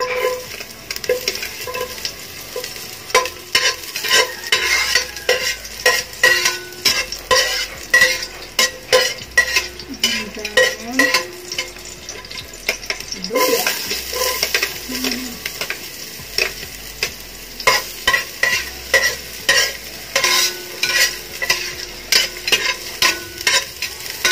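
Garlic frying in a pan as the first step of making lugaw at home, a steady close sizzle with frequent scraping and clinking of a utensil stirring against the pan, no talking.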